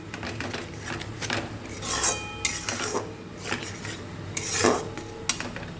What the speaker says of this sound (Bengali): পোস্তটা দিয়ে ভালো করে একটু নাড়াচাড়া করে নেব খুব ভালো করে নাড়াচাড়া করে নিচ্ছি